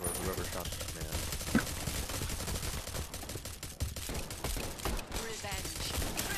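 Rapid bursts of gunfire from a multiplayer shooter video game crackle densely throughout, loud and continuous, with players talking over the shots.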